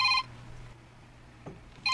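A mobile phone rings in a home during a radio drama, with two short bursts of electronic ringing at the start and end separated by a quiet gap, heard close and clear with no speech over it.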